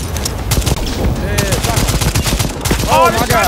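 Shotgun blasts and rapid gunfire from the video game Second Extinction, a dense, loud barrage of repeated shots mixed with game effects, with excited voices shouting over the action.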